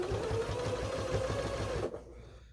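A sewing machine stitches binding onto a quilt at a steady close-up whir for about two seconds, then the motor stops and only a faint room hum remains.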